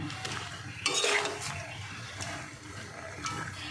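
Mango pickle cooking in sugar syrup over medium heat is stirred in a pot, giving soft scraping and stirring noises with a brief louder clatter near the start, close by and without talk.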